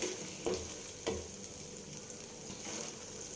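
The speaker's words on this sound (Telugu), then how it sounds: "ఒక 2-3 నిమిషాలు అనేది నూనెలో వేగితే సరిపోతుంది" Spices frying in oil for a cucumber, peanut and tomato chutney: a steady, quiet sizzle with a couple of brief louder crackles near the start, no voices.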